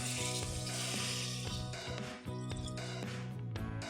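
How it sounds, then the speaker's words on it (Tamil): Loud, steady sizzling and bubbling fills the clip, with a hissing burst partway through as water is poured into masala frying in hot oil in a pan for mutton thakkadi. "இதில் நம்ம தண்ணியை ஊற்றிக்கலாம்."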